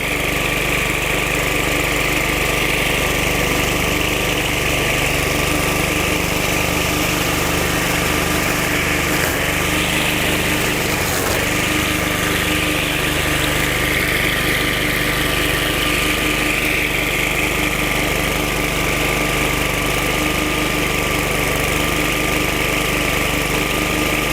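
A Southland gas field trimmer engine idles steadily with a buzzing, slightly rattly drone that holds an even pitch and loudness throughout, close by and with no talking.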